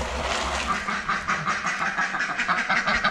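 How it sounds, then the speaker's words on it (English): A group of ducks at a farm quack in quick, repeated bursts at feeding time, moderately close, with a low mechanical rumble underneath. "The ducks. They think it's their time to eat."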